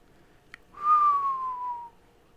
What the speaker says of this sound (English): Peter whistled.